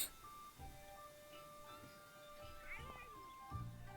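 Cats meowing in the Monster Hunter Rise video game, a few soft meows against a quiet game-menu background with faint tones, with a voice briefly heard.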